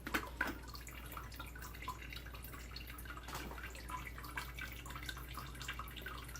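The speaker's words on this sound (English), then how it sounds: "One's dripping a little bit, the other one's dripping pretty fast." Quiet, irregular drips of water falling from a homemade gravity water filter, small distinct plinks scattered over a low steady hum, close by and faint.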